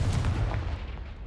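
A heavy blast from the Confringo fire spell in Hogwarts Legacy, a loud booming burst with a rumbling tail that fades over about a second.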